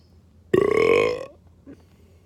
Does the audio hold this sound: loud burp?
yes